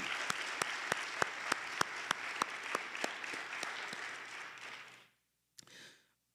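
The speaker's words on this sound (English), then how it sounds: "Can we please give them a round of applause" An audience at an evening community mental health event applauds its speakers, a steady wash of clapping from a sizeable crowd that fades out after about five seconds, followed by a brief last clap.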